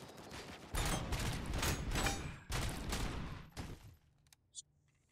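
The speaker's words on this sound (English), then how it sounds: "okay, who's shooting at me now?" Loud, dense bursts of gunfire in the video game RoboCop: Rogue City crackle in rapid volleys for about three seconds, then thin out into a few scattered, fainter shots and mechanical clicks.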